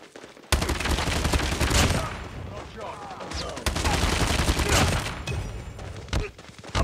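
HG-40 submachine gun fire in a video game: repeated rapid bursts of automatic shots, loud and close, with short pauses between bursts and no talk.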